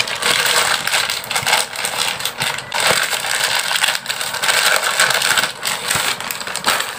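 A reusable ziplock pouch holding a beauty body bar is opened with continuous crinkly rustling and crackling of plastic, close and fairly loud throughout, with brief irregular pops and scrapes.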